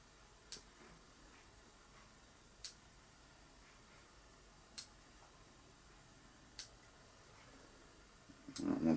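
Scissors snip five times at an even pace, trimming the legs on a Defcon-5 Green Drake fly-tying nymph; each cut is a faint, crisp click in a quiet room, followed by a brief rustle.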